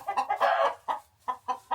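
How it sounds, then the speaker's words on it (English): Hens cluck after laying an egg, giving a burst of excited squawking followed by a run of short, evenly spaced clucks. The birds sound moderately close, with no talk over them. "That's what the chickens are doing right now."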